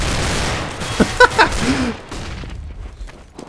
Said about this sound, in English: I like how his team's actually like shooting at him though